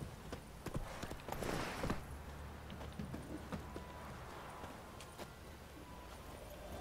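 The horse Roach walking in The Witcher 3, hooves clip-clopping in a steady, moderately loud rhythm amid low ambient game noise, with a brief rustling swell early on.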